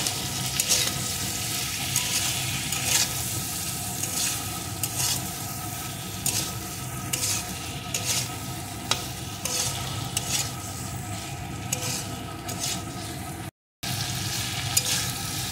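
Papaya pieces sautéed with spices in a pan for egg papaya curry, a loud continuous sizzle with frequent stirring scrapes close by, briefly dropping out for a moment before resuming.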